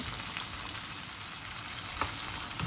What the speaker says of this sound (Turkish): karıştırarak ara ara hafifçe bunları da kızartıyorum